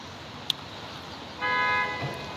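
Car horns honking on a busy city street in Wuhan, China, on a rainy day: one sustained horn tone of about half a second rises over steady traffic and rain hiss, with a brief sharp click just before it.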